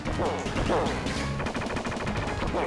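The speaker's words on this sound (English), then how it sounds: "the random gunfire" Rapid gunfire bursts from the TMNT: The Hyperstone Heist video game crackle continuously over dense game music and effects, loud and unbroken throughout.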